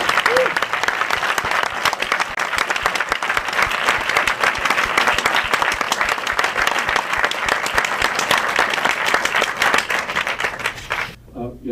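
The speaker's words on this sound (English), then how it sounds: "Please, a warm round of applause for the police chief, the new police chief here in Detroit." A Detroit audience at a film screening gives a long, dense round of applause for the city's new police chief. Steady crowd clapping fills about eleven seconds before cutting off abruptly.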